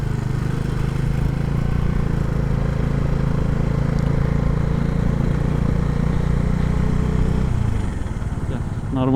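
A motorcycle ridden near Gadeshwar dam, a steady, close engine drone and rumble with wind noise that shifts in pitch as the bike slows near the end.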